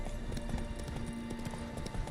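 Roach, a horse in The Witcher 3, gallops in a quick, steady rhythm of hoofbeats that continues throughout, with game ambience and music underneath.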